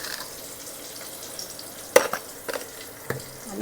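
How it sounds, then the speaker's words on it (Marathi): A quiet, steady sizzle of curry leaves, garlic, turmeric and salt frying in oil as tempering, broken by a few sharp clinks as a spoon stirs the pan. "फोडणी चांगली आपण खमंग भाजून घ्यायची"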